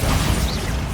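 Bombarda spell blast in Hogwarts Legacy: a loud, dense, noisy burst with a crashing rumble that holds for about a second without fading.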